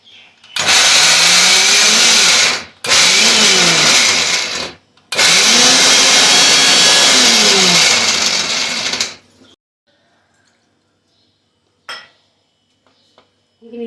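A mixer grinder loudly grinds masala for a fresh cashew curry in three bursts of a few seconds each, the motor whine rising and falling with each run, followed by quiet with faint kitchen clatter.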